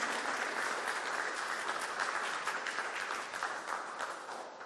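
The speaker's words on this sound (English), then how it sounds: "Let's have a round of applause for Krystal." Sustained applause from a seated audience after a creature design lecture, dense and even clapping that holds steady and then tapers slightly toward the end, with no talking on top.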